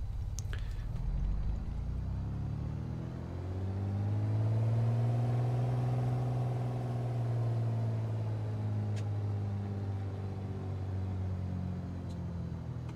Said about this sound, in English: Alright, so we'll taxi out onto the runway.